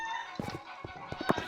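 A Minecraft chicken clucks in quick, close bursts, several short choppy calls over game background sound.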